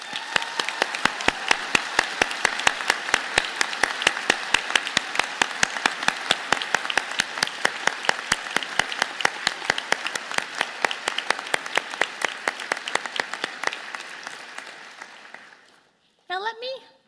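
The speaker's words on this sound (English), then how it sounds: "join me and the platform party in thanking them with a vigorous round of applause." A large university convocation audience claps steadily and densely for a long stretch, loud and sustained, before the applause cuts off abruptly near the end.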